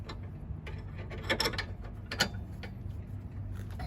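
Ratchet wrench tightening the nut on a sway bar end link of a 7th or 8th generation Honda Civic, a few short clicking and metallic turning bursts over a steady low garage hum, no talking.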